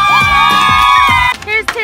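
A school cheering squad at a varsity soccer game whoops and shouts together, loud and close, in rhythmic bursts before breaking into scattered voices.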